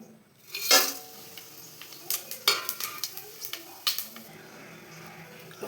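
Whole spices, including mace, cloves, cardamom, fennel, bay leaf and cinnamon, dropped into hot oil in a pan give a sharp sizzle, then a run of metallic scrapes and clinks as they are stirred close by.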